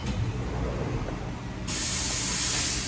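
A Haas CNC mill runs its program through an M6 tool change check, giving a steady mechanical hiss that jumps suddenly louder and brighter partway through, like a coolant or air blast starting.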